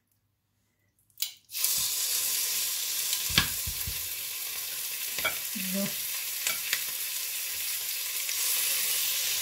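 Chicken meat sizzles and fries in butter in a very hot pan over high flame, a steady close hiss with a few stirring clatters and scrapes; a voice speaks briefly at the start.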